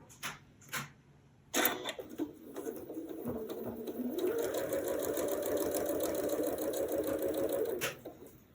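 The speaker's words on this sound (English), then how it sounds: "So I'm going to sew these together first." Sewing machine stitching quilt pieces together: a couple of brief clicks, then the motor whirs up into a steady, close, continuous run for several seconds before stopping.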